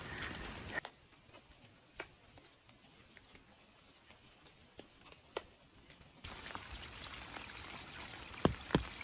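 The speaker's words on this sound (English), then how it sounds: "I just got water out of this little stream." A small stream on a rainy hiking trail trickles and flows faintly and steadily, with scattered drips and ticks, and the water noise grows louder and brighter toward the end.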